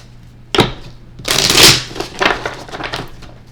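Tarot cards are shuffled by hand in a few close, crisp bursts of riffling and slapping, with brief pauses between them.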